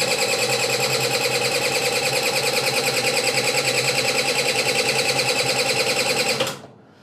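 A Roughhouse 50cc two-stroke scooter engine buzzes steadily and loudly at close range for several seconds, a dense rattling drone that cuts off abruptly near the end.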